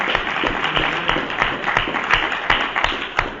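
An audience at a Nashville public transit board meeting applauds in a room, a dense patter of clapping hands with a few sharper claps standing out, steady and close for the whole stretch.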